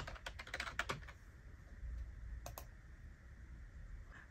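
Computer keyboard typing in quick bursts of close, crisp key clicks, with a pause and then a couple more taps, while entering a search term in the Canva design tool.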